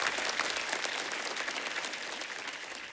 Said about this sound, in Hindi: एक बार राजू भाई के लिए जोरदार तालियां।